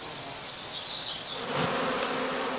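Honeybees forage among cornflowers and chamomile on heathland, giving a continuous close buzzing hum that swells slightly louder partway through, with no voices.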